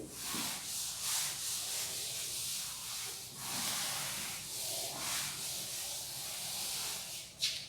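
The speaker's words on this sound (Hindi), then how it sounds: "मैं ये रब कर रही हूँ" Hands rub a material sample during a class lesson on sorting materials, producing soft, continuous scraping and brushing friction in uneven strokes, quiet and close, with no speech.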